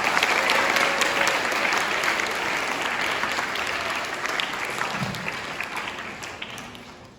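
A school auditorium audience at a high school Veterans Day assembly claps to welcome the school orchestra, steady applause that slowly fades over several seconds.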